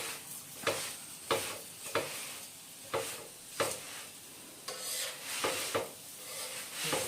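Aloo paratha cooking on a low flame in a pan, a soft steady sizzle broken by regular scraping strokes of a spatula about once a second.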